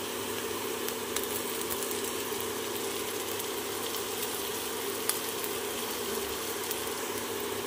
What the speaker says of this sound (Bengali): পেঁয়াজগুলি বাদামি করে ভেজে নিতে হবে